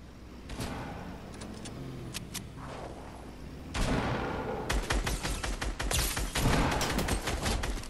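Gunfire in the video game Fortnite: scattered single shots early, then a dense burst of rapid automatic fire in the second half, loud and close with sharp repeated cracks.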